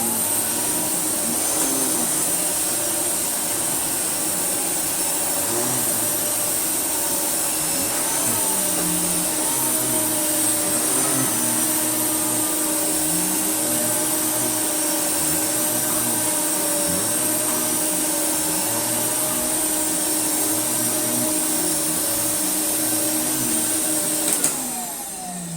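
A Hoover Sensotronic Total System 40 vacuum cleaner with a turbo head runs steadily on its high setting, a loud, constant motor whine with airy rush that holds unchanged throughout, no voices.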